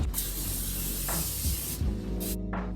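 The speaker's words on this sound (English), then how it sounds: "I can spray the pan." Cooking spray hisses onto a baking pan in a few steady bursts, close and fairly loud, with brief pauses between sprays.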